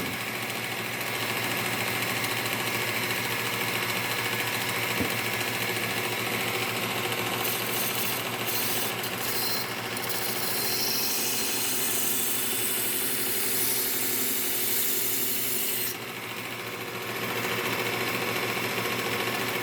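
A Work Sharp Ken Onion Elite belt sharpener with a Cubitron 120 belt hums steadily and loudly as it grinds a hatchet edge, the grinding pitch shifting now and then as the blade is moved across the belt.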